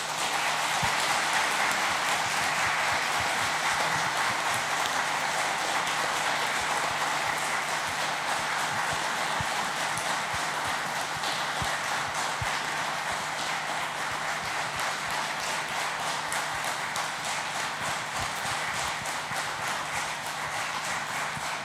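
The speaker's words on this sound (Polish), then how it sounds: "nie wiem, czy wiecie, co oznaczają tak długie brawa" Sustained applause from an audience at a Christmas concert, a dense, even wash of many hands clapping steadily for over twenty seconds, with occasional louder claps standing out against the steady roar.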